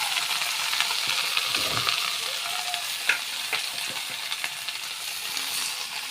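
Onion flowers and greens frying in a pan, stirred steadily, with a continuous close sizzle and a few soft clinks and scrapes of a utensil against the pan.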